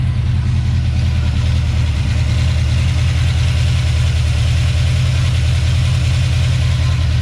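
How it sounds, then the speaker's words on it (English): A 1970 Plymouth Duster with a 340 V8 idles loudly and roughly up close during a first start attempt, a continuous uneven low chugging with a faint lope and no voices over it. "And the engine doesn't sound very happy"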